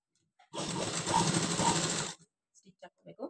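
A sewing machine stitches a garment lining, running in one steady mechanical burst of about a second and a half at close range. Afterwards a person talks in short phrases.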